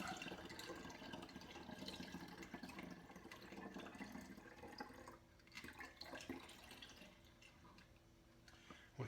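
Kombucha pouring into a bottle during bottling, a steady soft trickle of liquid that thins out near the end, faint and close with no speech.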